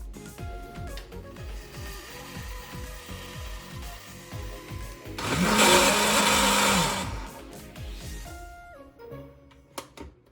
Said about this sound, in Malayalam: ഇത് നന്നായിട്ടൊന്ന് ബ്ലെൻഡ് ചെയ്തെടുക്കാം.